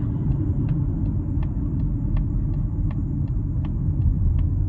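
A 2024 Mazda CX-50 Meridian SUV drives at low speed, giving off a steady low rumble of engine and road noise from inside the cabin with a faint ticking repeating throughout.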